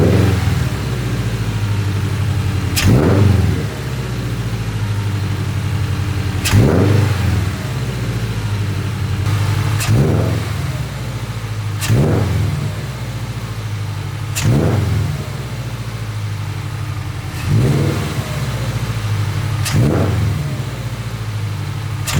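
A car with a freshly installed K&N drop-in air filter runs at a steady idle, then is revved hard about six times. Each rev is a sharp, loud rise and fall in pitch, spaced a few seconds apart.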